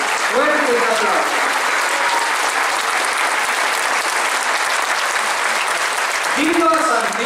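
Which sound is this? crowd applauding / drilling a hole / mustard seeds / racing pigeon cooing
crowd applauding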